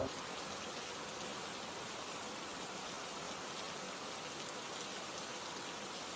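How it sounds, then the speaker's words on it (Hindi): Torrential rain in Murree pours steadily as a dense, even hiss with no pauses, loud and close throughout. "मरी में मूसलाधार बारिश से मौसम खुशगवार हो गया।"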